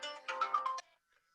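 A phone's melodic ringtone chimes in short, bright bursts for under a second during a spoken climate-emergency discussion, then stops and leaves near silence.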